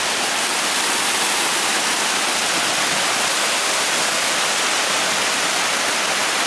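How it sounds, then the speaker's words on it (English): Peguche Falls in Ecuador cascading into a pool, a loud, dense, unbroken roar of rushing water heard up close, with no voices. "this is another area of the flume that comes in off of a pool area where the cascade drops in"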